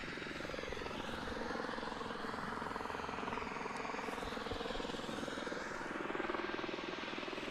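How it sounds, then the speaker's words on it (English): A helicopter approaches to land at snowy Queenstown Airport in the early-morning dark, its rotor making a faint, steady throb over a distant engine whine that rises and falls gently as it comes in. "waiting for the approaching heli that's coming in."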